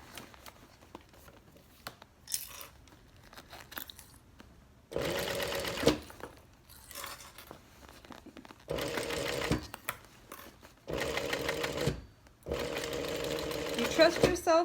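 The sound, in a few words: sewing machine stitching a tote bag strap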